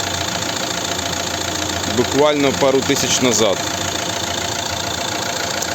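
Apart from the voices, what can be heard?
Renault Megane III 1.6 dCi diesel engine idling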